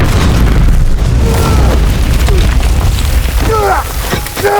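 A compound bomb detonates in a monster-movie scene with a heavy, sustained boom and rumbling blast. The loud explosion fills the clip, and brief whistling, sweeping tones rise near the end.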